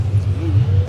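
A Chevrolet Camaro SS drag car at a street-night drag strip gives a short, low idling engine rumble, loud and close with a slight rising tone, no talk over it.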